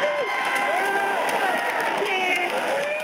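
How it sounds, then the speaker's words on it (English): AI-generated crowd cheering, a dense wash of many voices with distinct whoops, shouts and clapping layered over it, loud and continuous. "The AI was able to create the general crowd cheering noises while also being able to add in separate voices, cheering and clapping"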